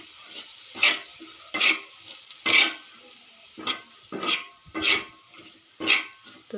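Chopped onion is tossed with oil, salt and chutney in a pan, a series of about eight soft scraping stirs over a faint sizzle, evenly paced and near, without talk.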